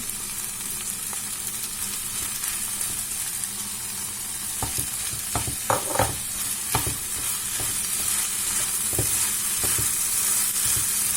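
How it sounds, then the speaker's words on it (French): Olives are tipped into a frying filling of minced meat and vegetables for stuffed vegetable and meat rolls, then stirred; a steady sizzle runs throughout with several sharp spoon scrapes and clatters bunched in the middle, close and moderately loud, with no talking. "Maintenant, je vais rajouter mes olives."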